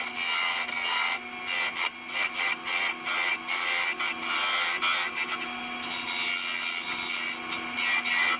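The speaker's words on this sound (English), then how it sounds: "I'm going to sand this lot off before I go any further" Banksia wood being sanded as it spins on a lathe, a continuous abrasive rasp close to the microphone with a steady motor hum beneath and uneven pulses in the scraping, and no speech.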